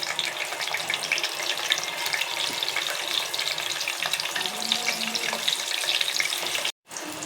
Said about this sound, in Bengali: আমি একটা একটা করে এখন কোপ্তাগুলো সব দিয়ে দিব তেলের ভিতরে, দিয়ে ভেজে নিব, লাল লাল করে ভেজে নিব।